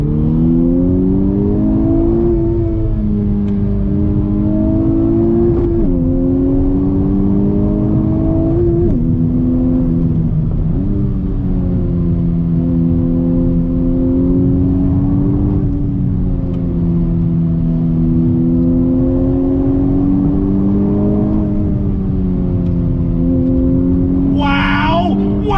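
A 2020 Honda Civic Type R, a front-wheel-drive hot hatch, accelerates hard on throttle, its engine note rising and falling loudly and continuously through several gear pulls with a brief sharp noise at the end.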